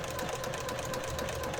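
A sewing machine stitches a scrappy fabric journal cover in a steady, faint, continuous whir with a fast even needle rhythm throughout.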